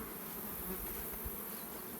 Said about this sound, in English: So there's just a smattering of bees in there, not many.